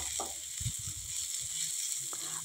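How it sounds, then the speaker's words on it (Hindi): Chicken for chicken changezi, salted and frying in a covered pan, gives off a steady, even hiss of sizzling oil with a few faint low knocks underneath. "इसको ढक करके ही फ्राई कर रहे हैं।"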